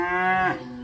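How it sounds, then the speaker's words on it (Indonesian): A single loud, close moo from Simmental cattle in a farm pen, one sustained tonal call that bends and fades out within a second. "Dengan jenis adalah sapi simental"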